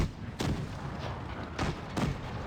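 Tank cannon shots in World of Tanks Blitz, two heavy booms with rumbling decay over constant battle noise, close and loud.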